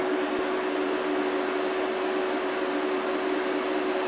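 A Silvercrest SDI 3500 E1 double induction hob in boost mode gives a steady electrical hum with a constant tone over broad, even noise, unchanging throughout and fairly quiet.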